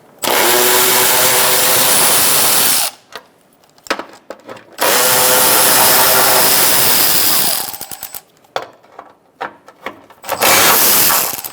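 A power tool with a 10mm socket undoes the bolts on a 2012-2017 Hyundai Accent's engine cooling fan assembly, loud harsh whirring bursts of a few seconds each, separated by short pauses and quick clicks.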